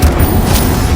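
An Incendio fire spell cast in the Hogwarts Legacy game, a brief, loud fiery burst with a deep boom and roaring rush that fills the whole moment.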